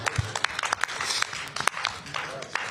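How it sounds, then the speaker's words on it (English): Scattered, sparse clapping from a few people at a city council strategy session, with irregular individual claps spread across a quiet room. "Mayor, I'm going to give an applause to that as well"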